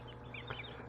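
Chickens and turkeys at a farm give faint, scattered clucks, with a couple of brief calls over a steady low background hum.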